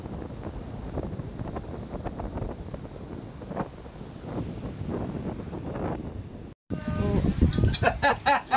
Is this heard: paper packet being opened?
no